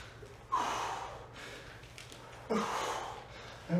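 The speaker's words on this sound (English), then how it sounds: "Exhale as you push up." Heavy, forceful exhales during dumbbell push-ups in a full-body HIIT workout, three sharp breathy bursts spaced about two seconds apart, close and fairly loud over a faint low hum.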